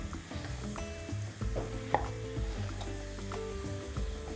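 Diced zucchini frying in a pan as part of a stuffed peppers recipe, with a steady close sizzle and a few light stirring clicks throughout, no talk.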